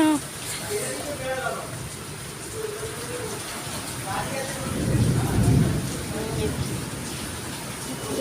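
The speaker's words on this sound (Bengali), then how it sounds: "মানে এত পরিমাণে বৃষ্টি" Heavy rain falls steadily in a Kolkata neighbourhood, a constant broadband wash with a low rumble of distant thunder swelling midway, under a person's talk.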